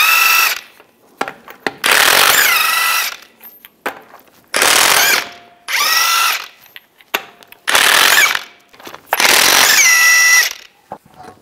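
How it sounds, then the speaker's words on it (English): A power tool with a 22 mm socket removes the passenger-side wheel of a 2010-2017 Chevrolet Equinox. It fires in four loud, close bursts of rattling impacts, with short gaps and small metallic clicks between them. "Take the passenger side wheel off, use a 22 millimeter socket."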